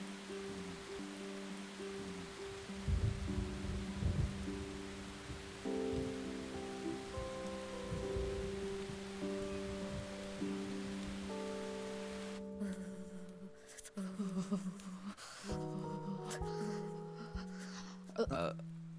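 Rain falling steadily as a soft continuous hiss, with tonal music and background sounds layered over it, fairly faint throughout.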